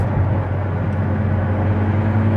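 Ford GT with a 7-speed dual-clutch automatic driving at Road America, a steady low engine drone and road rumble heard from inside, continuous and fairly loud throughout.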